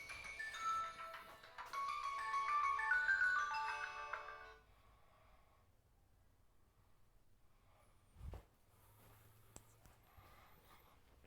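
A mobile phone ringtone plays a bright, tonal melody for about four seconds in a quiet teaching room, then cuts off, leaving faint room noise and a brief low thump.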